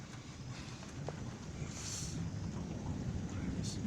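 Thunder rumbles low and continuous through a severe thunderstorm with intense lightning, rain hissing underneath and brief brighter cracks, fairly faint and distant.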